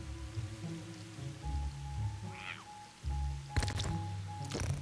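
Gentle patter of running water in Luigi's Mansion 3, faint and steady beneath game tones and music, with a few brief bright splashy bursts near the end.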